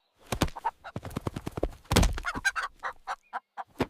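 A red hen clucks in a rapid string of short, loud, close calls with brief gaps between them, with no voices alongside.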